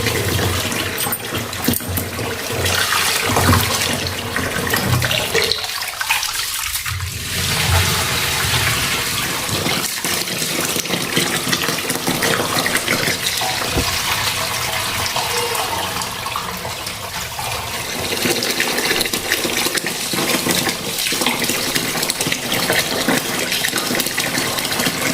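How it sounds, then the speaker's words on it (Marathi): Clean water gushes and splashes steadily while rice is washed two or three times for dosa batter, a loud running-water rush that lasts throughout with brief dips. "हे तांदूळ वगैरे सगळं आपण हे आता स्वच्छ पाण्याने 2-3 वेळा धुवून घेऊया"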